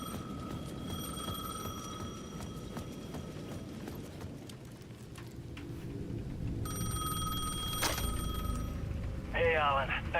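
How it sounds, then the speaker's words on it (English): A payphone rings in the video game Alan Wake 2, a steady electronic ringing that repeats over a dark ambient background, with a voice coming in briefly near the end. "The payphone at the edge of the plaza was ringing again."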